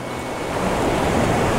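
Ocean surf rolls and breaks onto a Padre Island beach at sunrise as a steady, broad wash of crashing waves that swells slightly louder over a couple of seconds, with no voices.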